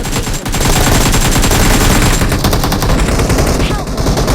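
Rapid automatic gunfire from a PUBG match rattles loudly and nearly continuously, with dense bursts of shots running under excited voices shouting over the action.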